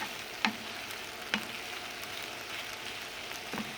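Peas frying in a pan with onion and bell pepper, stirred now and then: a steady soft sizzle with a few brief scraping clicks of the spoon, fairly quiet and close, no talking.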